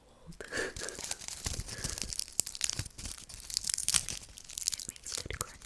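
Crunchy crinkling and tearing sounds recorded close for ASMR, dense and continuous with sharp crackles and rustles throughout, fairly quiet overall.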